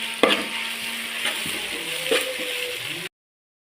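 Garlic, green chili, onion and ginger sizzle and fry in a pan for a chicken curry, with a steady crackle broken by a few scraping stirs of a spoon, then the sound cuts off abruptly.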